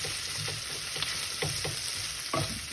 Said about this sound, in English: Sauteing this